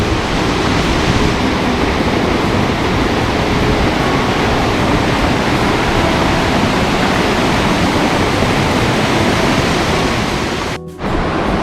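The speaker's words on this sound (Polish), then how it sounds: "kaskady, wodospady są po prostu nadal." Cascades and waterfalls in Sapadere Canyon, Türkiye, make a loud, unbroken roar of rushing water close by that fills the whole stretch before a brief break at the end.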